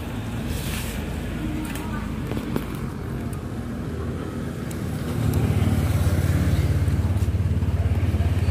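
A vehicle engine starts on a revived, previously dead battery and settles into a steady idle, its running rumble stepping up louder partway through and holding alone to the end.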